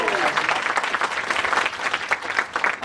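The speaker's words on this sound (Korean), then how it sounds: "여러분 치어에게 다시 한번 큰 박수 부탁드립니다." A crowd at a university academic festival applauds loudly after a cheer performance, sustained clapping that fills the room, with faint voices mixed in.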